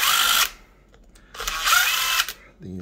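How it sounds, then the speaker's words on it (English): Dremel rotary tool driving screws into an RC car wheel, two short high-pitched whirring bursts separated by a brief pause, close and loud. "I'll zap them in with the Dremel"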